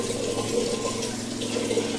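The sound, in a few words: water poured from a glass into pot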